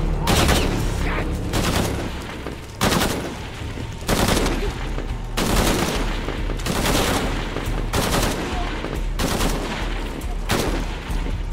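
Gunfire in Shadow of the Tomb Raider, loud automatic bursts repeating in a steady rhythm of heavy volleys separated by brief gaps, close and dominant throughout.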